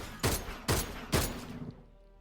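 Three evenly spaced DMR rifle shots crack out in a video game, each sharp report followed by a short decaying tail, loud and close with no talking.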